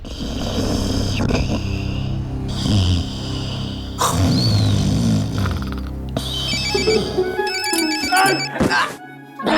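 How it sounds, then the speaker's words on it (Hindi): A phone ringtone chirps repeatedly in the latter part, with people talking and heavy background noise throughout. "तेरा फोन बज रहा है"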